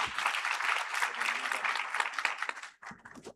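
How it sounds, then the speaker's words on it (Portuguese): An audience gives applause welcoming a speaker to the stage at a talk on AI and brand reputation, a fairly faint burst of clapping that fades after a few seconds into a few stray claps. "Uma salva de palmas."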